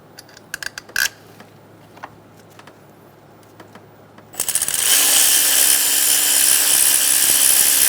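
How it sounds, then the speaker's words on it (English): On a 2003–2007 Honda Accord, the power steering pump bolts are snugged with a ratchet: sparse, close clicks and short ratcheting bursts, then a sudden loud, steady whirring roar that holds to the end, with no voices. "Snug the bolts down. Torque the power steering pump bolts to 16 foot-pounds."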